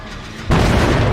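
A generator in Dead by Daylight bursts with a sudden loud boom partway through, cutting off a quieter stretch and leaving a sustained roaring blast that holds to the end.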